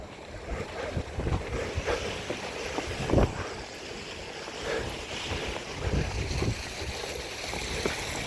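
Strong wind gusting during a snowfall in Toronto, a steady broadband roar with rushing surges and microphone buffeting, continuous and fairly loud with no talk.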